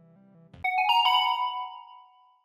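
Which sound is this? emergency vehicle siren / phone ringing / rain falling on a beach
phone ringing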